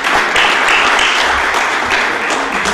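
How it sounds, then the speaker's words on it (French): Applause from the audience at a SUPINFO master's thesis defense, as the graduate's parents are honored; dense, steady clapping fills the room loudly throughout with no voices over it. "je vous demanderai s'il vous plaît de les applaudir."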